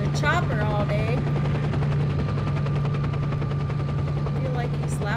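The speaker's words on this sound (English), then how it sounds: "this is gonna be annoying if you guys gotta listen to the chopper all day" A helicopter in the video game Stalker: Shadow of Chernobyl drones steadily and loudly throughout, its rotor thrum constant, with a few bursts of speech-like game sounds over it.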